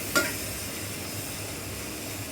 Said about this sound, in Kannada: ಉಪ್ಪು ಹಾಕಿ ಬೇಯಿಸ್ಕೊಂಡಿರೋ ನುಗ್ಗೆಕಾಯಿ ಹಾಕಬೇಕು, ಅರ್ಧ kg ಹಾಕಿ ಮಿಕ್ಸ್ ಮಾಡಿ